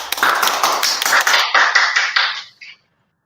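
Audience applause greeting three middle-school teachers at a school lesson-sharing event, a dense burst of clapping that holds steady for about two and a half seconds before stopping abruptly.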